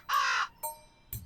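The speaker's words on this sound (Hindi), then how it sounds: "ये कौवे जैसे तुच्छ पक्षी को मीनाक्षी क्यों बुला रहा है?" A crow gives three harsh caws: a long, loud opening call followed by two shorter, fainter ones, spaced apart with no other sounds.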